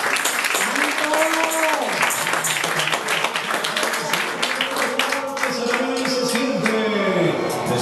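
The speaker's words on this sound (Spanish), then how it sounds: "dale un aplauso al Señor" Church congregation applauding the Lord, dense clapping spread across the whole stretch with voices singing or calling over it.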